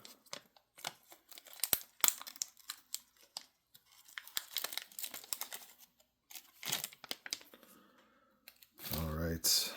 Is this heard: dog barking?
no